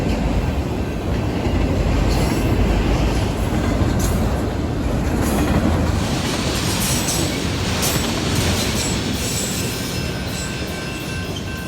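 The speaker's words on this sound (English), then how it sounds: "we're chasing trains." A train rumbles past at close range, a loud continuous roar with clattering wheels and occasional faint squeals.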